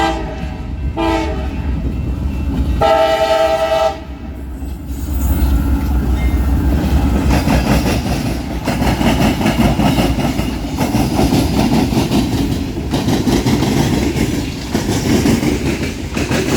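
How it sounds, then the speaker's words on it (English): A coal train rolls past on railroad tracks in Ohio, its horn blaring in a few long blasts up close before a steady clickety-clack of wagons and faint wheel squeal carry on loudly. "here is a coal train"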